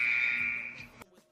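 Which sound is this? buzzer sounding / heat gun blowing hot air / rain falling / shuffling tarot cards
buzzer sounding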